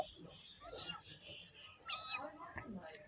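A young kitten, newly arrived at an adoption place, gives a couple of faint, brief meows in a quiet room, with soft whispered speech nearby.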